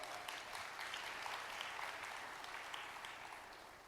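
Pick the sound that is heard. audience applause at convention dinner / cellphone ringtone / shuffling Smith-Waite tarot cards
audience applause at convention dinner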